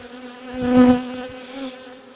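Honey bees buzz steadily around an open hive from a recent colony split, a close, droning hum that swells briefly and then settles.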